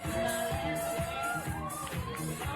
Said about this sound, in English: a young girl on stage dancing to a cheering brunch crowd